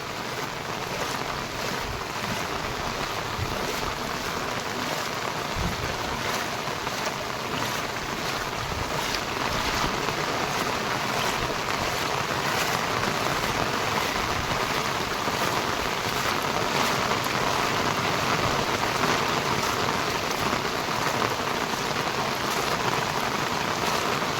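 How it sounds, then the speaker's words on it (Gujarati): Heavy monsoon rain pours steadily during flooding in Kajardi village, a dense, continuous hiss with close drops spattering on surfaces, loud and unbroken throughout with no voices. "આજ નથી આવી કેમ કે આજે ભારે વરસાદ છે"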